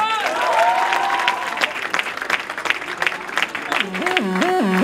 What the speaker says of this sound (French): je voudrais qu'on applaudisse Kevin qui est au fond de la salle là-bas